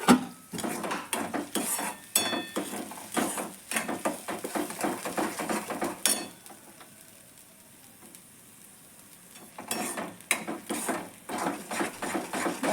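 Pots, pans and cutlery clatter in quick, close bursts while matar paneer ingredients are sautéed in a pan, with a soft sizzle showing through a quieter stretch midway.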